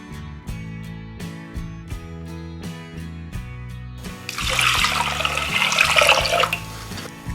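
Background music with a plucked melody plays, then a rush of water gushes into a pressure cooker holding toor dal and rice for a few seconds, splashing loudly under the music.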